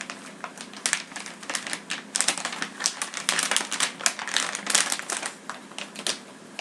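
Crinkling and rustling of packaging as a 512MB Axle3D Nvidia GeForce video card is lifted out of its box, a close, steady run of crisp crackles and handling noises with no talking.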